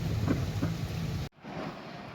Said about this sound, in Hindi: बहुत तेज बारिश है भाई, बहुत ज्यादा तेज बारिश।